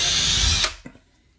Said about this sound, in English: I need to open the hole up big enough. So I'm working my way up to quarter inch.